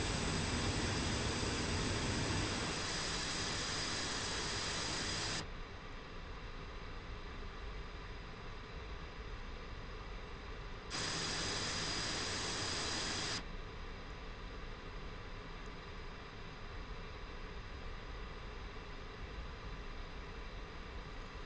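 Jet engine of a taxiing aircraft in the DCS combat flight simulator, a steady broadband roar with a high whine, interrupted by abrupt level shifts as the sound cuts between louder and quieter states; no talking.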